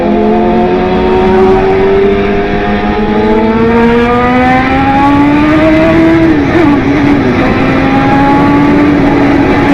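A loud BMW S1000 RR motorcycle accelerates hard nearby, its engine note climbing steadily through the revs with a brief shift partway through, then pulling up again, loud and continuous.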